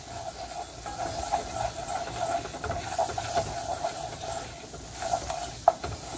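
A flour-and-butter roux cooking down in a pan, a soft steady sizzle with repeated scraping and stirring strokes and an occasional louder clink.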